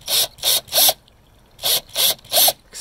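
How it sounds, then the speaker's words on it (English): A regular handheld drill bites at a metal seed plate for storing crypto recovery words in six short bursts, three in quick succession, a pause, then three more, each a harsh high grinding whine, close and loud with no talking. "we're going to try to make a little dent in this seed plate with a regular drill"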